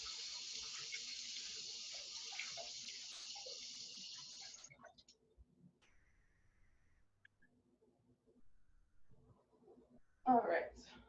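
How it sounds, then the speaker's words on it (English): Running water from a kitchen sink tap as hands covered in dough are washed: a steady splashing hiss for several seconds that stops, then quiet handling noises and a brief burst of water near the end. "let me wash my hands because I have dough all over them"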